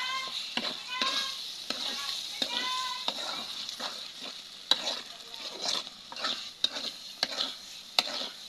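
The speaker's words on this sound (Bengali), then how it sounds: "এখন খাসির মাংস সহকারে ভালো করে কষে নিতে হবে।" Mutton stir-fried in a pan, spatula scraping and stirring in repeated strokes over a steady sizzle, close and moderately loud, with faint background voices.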